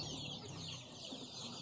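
Chickens cluck softly and steadily close by, over a constant background hiss.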